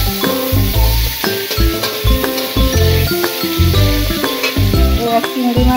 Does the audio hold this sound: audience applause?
no